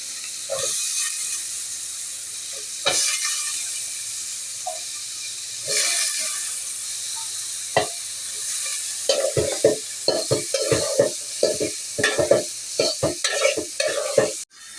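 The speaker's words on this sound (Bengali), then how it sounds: "মশলাটা ভালো করে কষিয়ে নিয়েছি" Spice masala being sautéed in a pan for a pangas fish bhuna, a constant loud sizzle broken by scattered scrapes that turn into rapid rhythmic stirring strokes toward the end, no talking.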